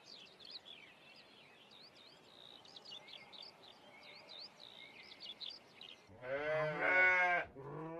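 Native sheep in the Bohemian Forest give a loud, close bleat near the end after several seconds of quiet background with chirping birds.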